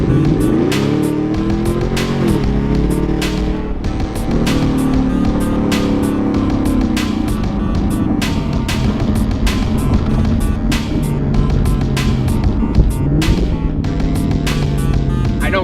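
A loud Chevrolet Camaro SS engine roars and revs hard through a sustained pull, pitch climbing with rhythmic gear shifts, close and constant throughout.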